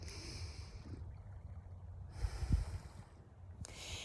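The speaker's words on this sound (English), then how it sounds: "big belly breaths where it's my belly that is expanding" A person takes a slow, deep belly breath close to the mic, with soft airy inhaling and exhaling and a gentle rush of air building and fading over a few seconds.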